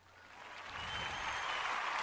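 Applause rising from a crowd, starting soft and quickly swelling into a fuller wash of clapping that holds steady to the end, short and moderately loud.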